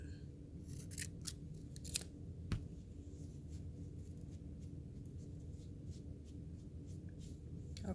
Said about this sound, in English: Let me just trim my pom-pom so it looks nice and neat.